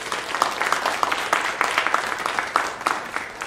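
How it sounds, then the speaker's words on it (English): Audience applause at a Women's History Month celebration event, a steady, fairly loud roll of many hands clapping that keeps going throughout with no talking over it. "Please give these wonderful people a round of applause."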